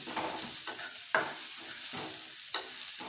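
Tamarind leaves mixed with salt are stirred in a pan, a soft steady sizzle with several scraping strokes of the spoon at an even pace, close and fairly quiet.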